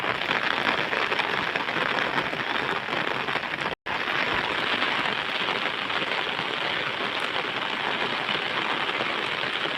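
Heavy, steady downpour in Methala village, a dense, loud, unbroken hiss of rain on surfaces with one brief dropout, nearby and with no voices.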